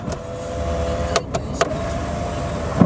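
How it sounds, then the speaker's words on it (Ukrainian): Sunroof control in a 2023 Subaru Outback, heard as a steady electric motor whine inside the cabin with a few soft clicks and taps. "У нас є люк, керування люком."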